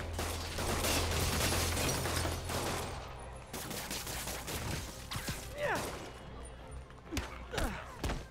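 Thugs fire guns at Spider-Man in Marvel's Spider-Man on PS5, a dense burst of rapid gunfire that thins into scattered shots and impacts with crashing debris and brief shouts.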